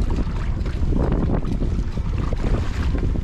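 Steady, loud wind buffeting the microphone outdoors on the Vancouver Island coast, with a constant low roar and rushing noise throughout and no pauses.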